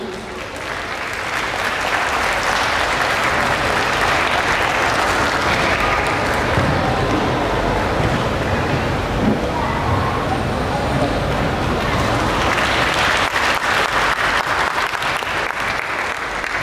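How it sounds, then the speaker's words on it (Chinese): Sustained applause from a large audience at a Chinese cultural children's choir event, a dense steady roar of clapping lasting throughout, loud and continuous with a faint crowd murmur underneath. "掌声有请"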